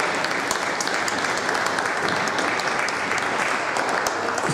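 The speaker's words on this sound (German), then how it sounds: "Das ist wirklich ein ganz heftiger extra Applaus." Steady, dense applause from an audience at a public hearing on Tempelhofer Feld fills the room, loud and continuous throughout without a break.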